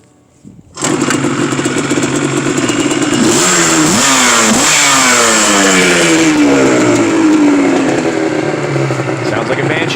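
Yamaha Banshee two-stroke engine fitted in a YFZ450 quad fires up and revs loudly nearby, a raspy, buzzing idle with several sharp throttle blips that rise and fall, running continuously afterward, with voices faintly underneath.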